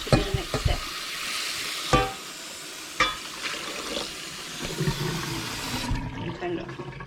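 A saucepan is rinsed under running water, with gushing, splashing flow and a few sharp metallic knocks of the pan, close by, before the water cuts off near the end.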